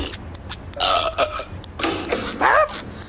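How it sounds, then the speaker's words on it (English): A loud, drawn-out burp with a few short belches in a cartoon setting, several distinct bursts within three seconds and little talk around them. "Watch this, the burp champion of the world."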